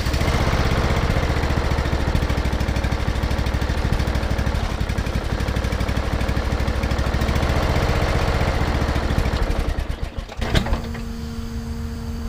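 A Troy-Bilt Pony riding lawn mower engine running with no choke, a loud, steady close-up mechanical drone with rapid pulsing chatter, then a brief dip and shift in tone near the end before it settles into a steady hum.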